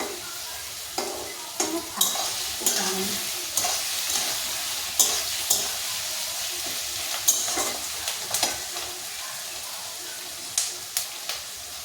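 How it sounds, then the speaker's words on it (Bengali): Onion with green chillies and spices frying in a pan gives a steady close sizzle, broken by repeated scraping stirs of a spatula at an irregular rhythm. "একটু ভাজা হোক পেঁয়াজটা"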